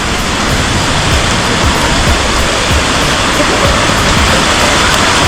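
A small waterfall in the Adrai forest pours in a dense, unbroken rush of water, loud and close, with no voices over it.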